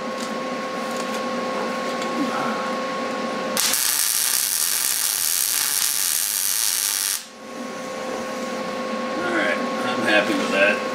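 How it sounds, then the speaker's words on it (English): A grinder works a truck leaf spring pad from a Ford F150 axle, a loud broadband grinding burst lasting a few seconds in the middle between quieter shop noise with a steady mechanical hum. "that's what they make a grinder for"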